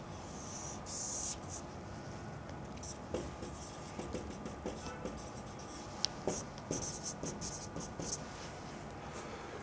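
A pen scratches across paper while a risk-return diagram is drawn, giving soft, close strokes with short pauses and a few sharper taps, over a quiet room background.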